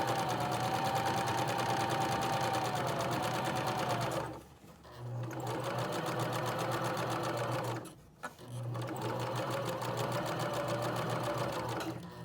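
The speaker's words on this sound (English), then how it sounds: "I'm going to sew through all of those layers till I reach the edge of the fabric." A sewing machine stitches through several folded fabric layers while hemming. It runs as a steady, close mechanical whir, pausing briefly twice before resuming.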